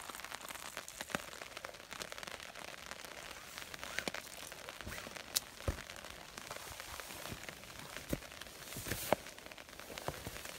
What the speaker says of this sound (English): Pretty good amount of rain.